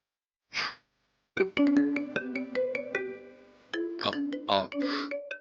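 A phone rings nearby with a melodic ringtone playing in repeated bursts of tones, after a brief breathy vocal sound and with short breaths between rings.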